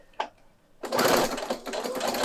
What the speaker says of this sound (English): Can you see with the walking foot, it just glides through the machine.